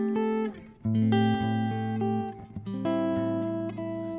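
Electric guitar through a Kemper profiling amp with the compressor stomp box switched off, a few sustained chords and notes with a less squashed, more dynamic clean tone, close and without any voice.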